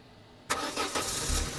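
Car engine starting in the Shadows on the Vatican video game, a sudden ignition burst followed by a steady running engine, close and fairly loud with no voices.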